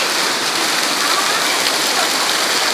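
Heavy rain pours steadily in a downpour strong enough to flood a garden, a dense, even hiss that stays loud and unbroken throughout with no voices.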